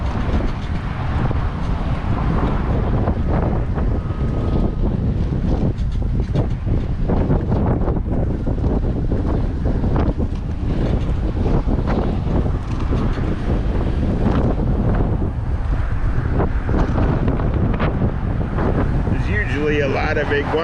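Strong gusty wind buffets the microphone on a seaside bike trail in the Lower Florida Keys, a continuous rough roar that rises and falls for about twenty seconds.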